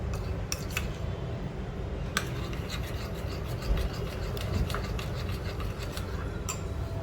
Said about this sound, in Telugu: అలా కలిపితేనే కలుస్తుంది చూశారు కదా వీడియోలో చూపిస్తున్నట్టు అలా పూర్తిగా కలుపుకోవాలి ఈ మిశ్రమాన్ని